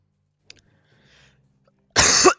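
A single sharp, loud sneeze bursts out near the end after a mostly quiet stretch with faint background sounds, heard up close with no talking over it.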